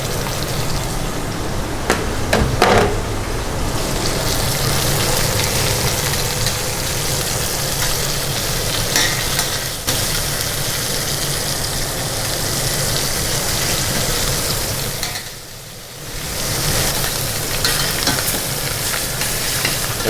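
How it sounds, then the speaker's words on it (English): Oxtail pieces sear in a very hot pan while braised oxtail is being cooked, giving a loud, steady sizzle and frying hiss with occasional stirring scrapes. The sizzle briefly dips around the middle before returning at full strength, with no talking. "The pan's nice and hot. So we're just going to give this a bit of colour, get some flavour into that oxtail."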